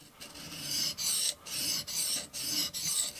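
A TRC XS Splinter fixed-blade knife is sharpened on a coarse diamond plate of a TSPROF Blitz Pro system, giving close, rhythmic rasping strokes of even length, about seven passes with brief pauses between them.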